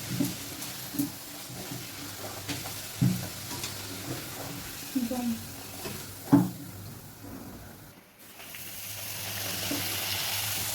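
Puris fry in hot oil, a steady low sizzle running throughout, broken by occasional soft knocks and scrapes of a utensil against the pan, near and fairly quiet with no talking.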